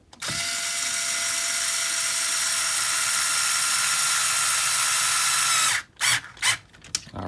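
Power tool driving screws into a rock slider on a truck, a loud continuous mechanical whir of about five seconds, then a few short stuttering bursts as the screw snugs down.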